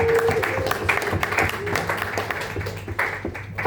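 Comedy club audience applauding as comedian Tim O'Hare is welcomed to the stage, a dense, steady wash of clapping from a sizeable crowd sustained throughout at moderate level.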